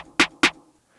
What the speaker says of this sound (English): You're going to want a pretty prominent snare